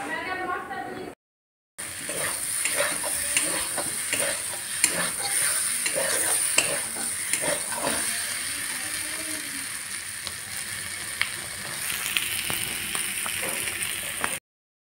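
Chopped vegetables fry in a pan in a home kitchen, a close crackling sizzle with frequent scraping and clattering of a spoon stirring, after a brief silent gap near the start.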